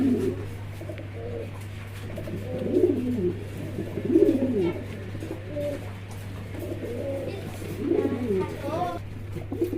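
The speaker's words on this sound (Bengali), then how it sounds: "এখানে কিন্তু একজোড়া রেসার কবুতর আছে" Racer pigeons coo in low, throaty rolling phrases that repeat every couple of seconds over a constant low hum.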